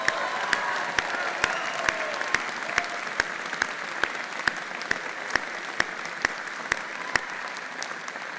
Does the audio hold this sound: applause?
yes